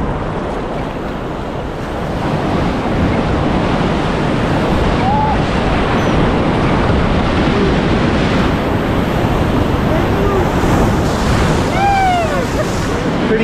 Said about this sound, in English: about to run Gypsum Canyon Rapid and it's fully returned